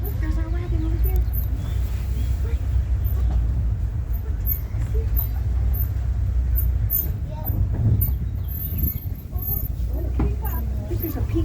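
A tram rolls through a deer park, a steady low rumbling drone of the vehicle running continuously under scattered chirping birds and a voice speaking over it.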